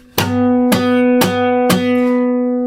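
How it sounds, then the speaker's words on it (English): Four evenly spaced guitar strums ring out one after another, each a bright sharp attack that sustains a single clear pitch with the other strings held silent. "Strum the guitar like this, so you hold the strings,"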